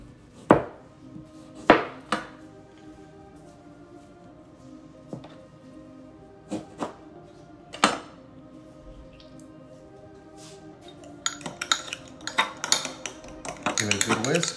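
Whisk and spoon knocking against a bowl while mixing a taco sauce with salt and lime juice, a few sharp clinks spaced out and then quicker stirring taps near the end, close and moderately quiet.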